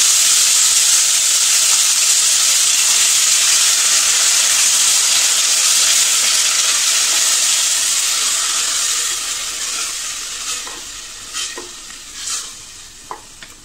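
Onion paste sizzles loudly in a pan with whole spices such as cloves and cardamom, a dense steady frying hiss that slowly settles, with a few stirring scrapes near the end.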